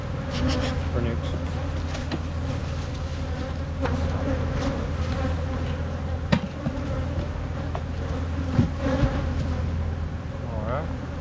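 Honeybees buzzing steadily around an open hive during almond pollination, a dense continuous drone of many wings close by, with occasional bumps and knocks from handling the hive; no talking.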